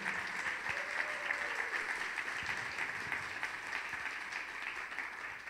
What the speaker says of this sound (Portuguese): Dê uma salva de palmas, porque ele vive, está aqui, ó.